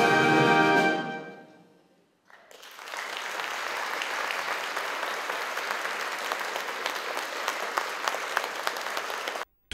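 Warm, sustained applause from a crowd fills the air after a trumpet band's anniversary march fades out, a dense even wash of clapping lasting several seconds until it cuts off.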